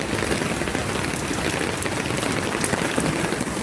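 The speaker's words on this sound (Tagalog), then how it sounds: "Halakas ng ulan." Heavy rain pours steadily on hard surfaces near a Hong Kong pier, a dense, even hiss of droplets spattering close by without pause for the few seconds heard, with no voices.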